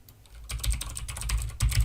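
Rapid keystrokes on a computer keyboard while an email address is typed, a quiet stretch giving way to a dense, steady run of close clicks with a brief pause before a final burst.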